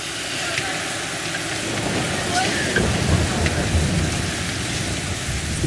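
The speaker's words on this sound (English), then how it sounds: "We did a run back to the port because of the rain." Heavy rain pours steadily on a street in Naples, a dense, loud, continuous hiss and spatter of drops on hard surfaces with occasional heavier splashes, and voices talking underneath.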